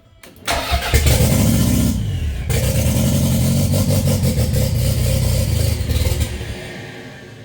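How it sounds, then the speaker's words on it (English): A Toyota MR2 turbo's replacement engine, hard to start, cranks briefly, catches, then idles loudly with throttle blips before cutting off near the end. "Day 2 of trying to start the engine on the MR2."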